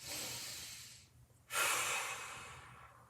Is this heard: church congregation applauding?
no